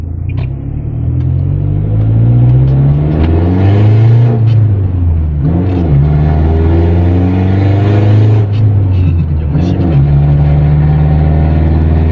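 A remapped 2020 1.9-litre pickup with a wastegate canister, heard from inside while driving: loud, close engine drone rising and falling through several revving pulls and gear changes over about twelve seconds, with no talk.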